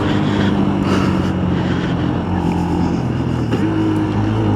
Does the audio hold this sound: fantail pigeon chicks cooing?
no